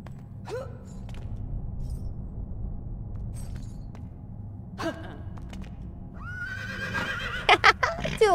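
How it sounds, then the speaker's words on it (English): Horse chess piece in Lego Harry Potter whinnying and neighing as it fights, with several short snorting cries spread across the clip and clattering hits near the end, over a low game rumble. "The horse is fighting."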